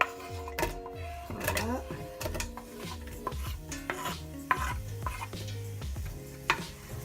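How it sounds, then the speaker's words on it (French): Onions tipped into a pan of hot olive oil for a Moroccan chicken and olive dish, with clattering utensil and pan knocks, light sizzling and stirring scrapes, moderately close, under a short spoken remark. "Maintenant je vais mettre mes oignons."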